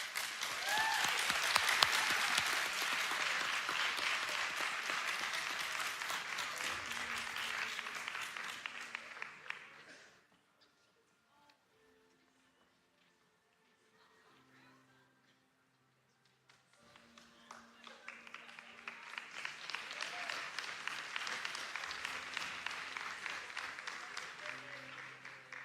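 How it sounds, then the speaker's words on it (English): An audience at a community awards event breaks into sustained applause, which fades to near silence, then a second long wave of clapping swells up, moderately distant and filling the room. "So let's give a big round of applause for our Community Volunteer of the Year, Jason Handy of Handy Hospitality."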